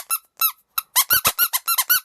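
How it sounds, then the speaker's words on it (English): A rubber vinyl Olaf toy doll gives a run of sharp, close squeaks, two spaced ones first and then about eight rapid ones in quick rhythm, loud and with no other sound. "it makes noises like it's a squeaky toy. It's a rubber squeaky toy"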